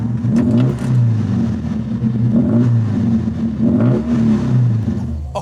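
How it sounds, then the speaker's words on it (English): A 1968 Honda S800 with a stainless steel exhaust, its small engine revving close and loud in about three repeated rising pulls over a steady buzzing idle. "Right, I can't wait to start up this little car."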